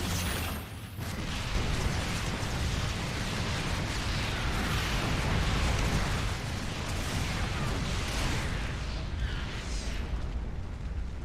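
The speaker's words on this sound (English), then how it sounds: "Nuclear missile ready." Nuclear missile strike in StarCraft II: after a short quiet gap, a dense, sustained rumbling blast roar swells up and churns on loudly for several seconds, with no speech over it.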